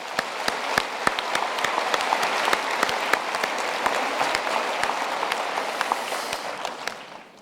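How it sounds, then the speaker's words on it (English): University graduation ceremony audience breaking into a steady round of applause, dense overlapping claps with sharp individual hand strikes standing out, sustained and even before tapering at the end. "I think we can give them a hand of applause."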